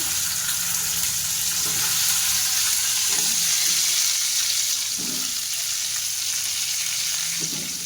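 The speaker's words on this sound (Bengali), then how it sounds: "এবার আমি ফুলকপি করে একটু ভেজে নেব" Cauliflower and potato frying in a pan, a steady close sizzle with a few soft stirring knocks.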